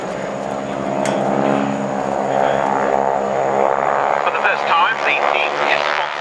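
Propeller aircraft fly at the RNAS Culdrose airshow, a loud steady engine drone with shifting pitch as they pass, and a commentator talks over it.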